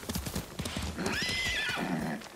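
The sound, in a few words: horse galloping in video game Ghost of Tsushima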